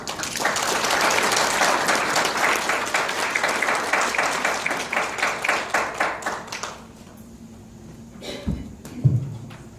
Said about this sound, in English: round of applause, welcome Kate White